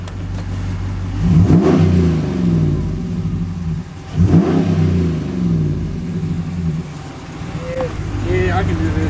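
Car engine with a newly installed aftermarket exhaust, revved twice in strong bursts that swell and settle to a throaty idle, close by, with people talking over it.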